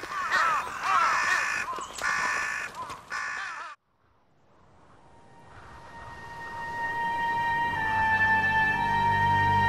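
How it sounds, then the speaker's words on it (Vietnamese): A flock of crows caws loudly and repeatedly while squabbling over scraps of a frozen animal carcass in wintry Hokkaido. The harsh calls stop after about four seconds, leaving near silence before soft sustained tones slowly swell. "Bầy quạ tức giận tranh giành những mẩu vụn."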